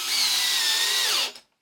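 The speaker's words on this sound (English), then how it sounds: "let's take a look at the drill driver. We are in speed 2, in drill mode." A bulky drill driver running in drill mode at speed 2 gives a steady high motor whine for over a second, then winds down quickly to silence, loud and close.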